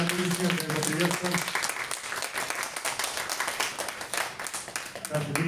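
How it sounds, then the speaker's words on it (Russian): Audience applause fills a book presentation in a bookstore, a dense steady clapping from a crowd that carries on throughout, with speech heard over it at the start and end. "Давайте еще более громкие аплодисменты поприветствуем."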